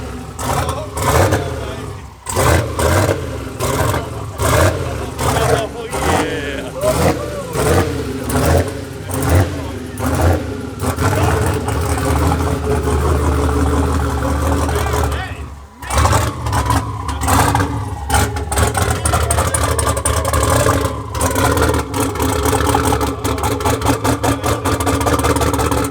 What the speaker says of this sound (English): Freaking turbo sound. God, that thing sounds so good.